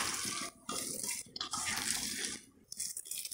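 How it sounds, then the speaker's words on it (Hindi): Gram flour being mixed by hand into shredded cabbage for pakora batter, giving close, wet, squelching rustles in bursts separated by brief pauses. "तो पहले मिक्स कर ले रहे हैं।"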